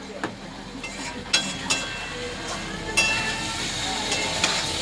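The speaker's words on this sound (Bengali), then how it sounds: "যাতে নিচে না লেগে যায় একটু ভালো করে কষিয়ে নেব, মশলাগুলো যাতে একে অপরের গায়ে লেগে যায়।" Spices and rice are stir-fried in a pan, with a steady soft sizzle under repeated scraping strokes and a few sharp clinks of the spoon against the metal.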